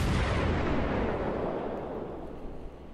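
Heavy HE shell salvos from an Omaha cruiser in World of Warships roll out as one loud, dense blast rumble that slowly decays over a few seconds, with no talking.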